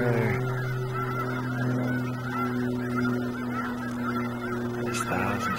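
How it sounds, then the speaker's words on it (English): Snow geese honk from a large flock at Bosque del Apache, a dense, continuous chorus of calls at moderate distance with no talking. "see the snow geese that came in earlier."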